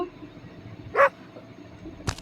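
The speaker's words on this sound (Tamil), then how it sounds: "இந்த நாய் வேற கொலைக்குதுடா." In the horror video game Endless Nightmare, a dog gives a single clear bark, followed a moment later by a sharp click or thud, with no talk.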